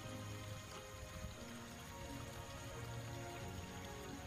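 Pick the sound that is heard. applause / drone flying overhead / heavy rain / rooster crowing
heavy rain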